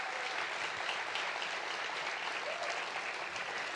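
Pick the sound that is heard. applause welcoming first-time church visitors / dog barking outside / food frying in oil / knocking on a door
applause welcoming first-time church visitors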